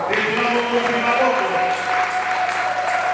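Audience at a French-language religious gathering cheering and applauding together, a steady dense wash of clapping with some voices mixed in, continuous and fairly loud throughout.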